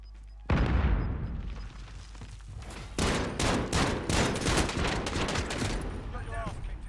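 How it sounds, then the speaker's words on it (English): A grenade blast followed by a long run of rapid gunfire bursts in Call of Duty Warzone, loud and close, with dense volleys continuing throughout and no talk over it. "Grenade out!"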